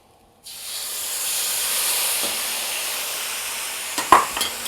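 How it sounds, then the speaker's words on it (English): Sauce hits a hot wok while cooking Shanghai noodles, breaking from silence into a sudden loud hiss that keeps sizzling steadily, with a few clinks near the end. "when you add the sauce to a hot wok, add it from the outside"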